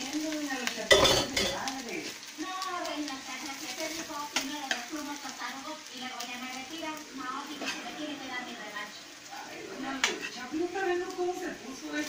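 Rice for chaufa stir-fries in a pan with egg, broccoli and salmon, a steady sizzle broken by utensils scraping and clinking against the pan while a person talks over it.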